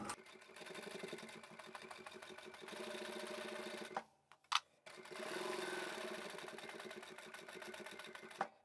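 Sewing machine stitching a small glasses pouch from scrap fabric along a 1 cm seam allowance, with a steady close mechanical whirr, a brief pause and a few isolated clicks as it back stitches, then a continuous run again.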